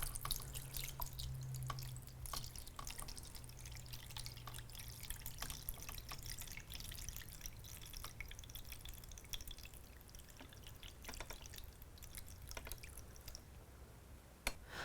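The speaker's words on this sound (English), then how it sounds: "we're just going to pour some water right into the drip tray." Water poured into the drip tray of a JURA ENA 8 espresso machine, faint trickling and scattered dripping splashes, with a soft hum in the first seconds and quiet, irregular drops continuing to the end.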